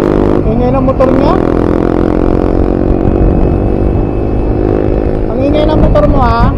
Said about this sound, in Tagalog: Ang ingay ng motor mo, ha.